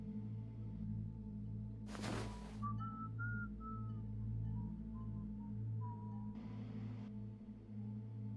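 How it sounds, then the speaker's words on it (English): A character in the Sherlock Holmes game whistles a faint, brief tune while dissecting a body, quiet over a low humming background with a couple of short noise bursts. "just whistling while you're cutting up a dead body just doesn't feel right"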